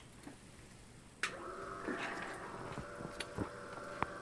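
A DIY coolant pump on a Cincinnati Toolmaster 1A/B milling machine switches on after about a second of quiet, settling into a steady mechanical whir with faint ticks and clicks at moderate level, no voices.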